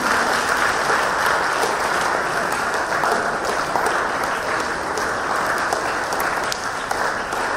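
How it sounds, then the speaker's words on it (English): Sustained, dense applause from a large standing audience at a school showcase event, a steady loud roar of clapping hands filling the room without pause. "Louder applause to them."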